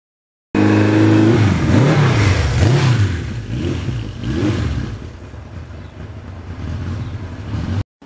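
A 1982 Suzuki GS1100E cruising down the highway on Route 80, its engine droning steadily and loudly with a rising note early on, wind rush over the rider, continuous until an abrupt cut near the end.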